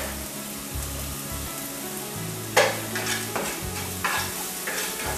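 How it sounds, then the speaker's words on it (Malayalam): Garlic sautéing in a pan while making achari aloo, a steady sizzle and fry with intermittent stirring scrapes and clatters, close and fairly loud, no voices. "വെളുത്തുള്ളിയുടെ പച്ചമണം പോകുന്നവരെ ഇതൊന്ന് വഴറ്റി കൊടുക്കുക."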